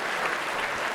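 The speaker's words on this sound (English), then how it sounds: "Let's give a round of applause to Dr." Audience applause at a wellness and mindfulness talk, a dense, steady wash of clapping for a brief moment with a low thump at the end.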